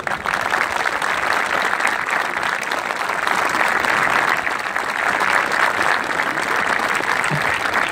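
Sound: audience applause for breast cancer survivors

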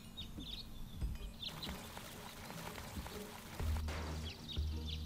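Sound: water pouring into tank in video game Deponia

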